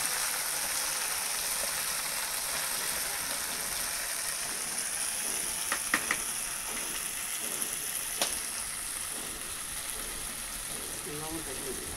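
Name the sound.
spices frying in oil in a wok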